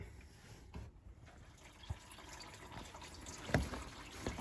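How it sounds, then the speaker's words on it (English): Antifreeze dripping from the water pump housing of a 2016–2019 Chevy Suburban 5.3L as the bolts come out, a few faint, irregular splats and trickles against quiet background. "you can see the antifreeze is now dripping out of the bottom"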